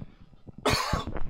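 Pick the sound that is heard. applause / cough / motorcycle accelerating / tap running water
cough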